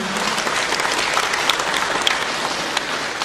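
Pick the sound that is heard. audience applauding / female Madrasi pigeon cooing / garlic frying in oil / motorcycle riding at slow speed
audience applauding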